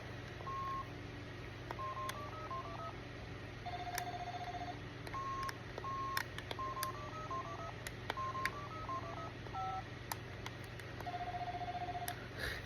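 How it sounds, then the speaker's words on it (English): Buttons on an Elmo toy phone play a series of clear electronic tone beeps in short melodic runs with pauses between, set against a steady low hum. "this Elmo phone"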